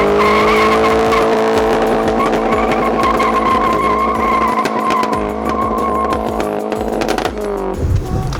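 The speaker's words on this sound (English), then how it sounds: "let's see if she does a burnout" A racecar engine running on Everclear roars continuously at high revs while tires squeal in a sustained burnout, loud and close, ending with a few sharp pops.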